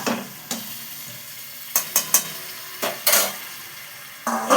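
Marinated mutton frying in a pan while being stirred, a soft steady sizzle punctuated by several distinct scraping and clattering strokes of a spoon, near and with no talking.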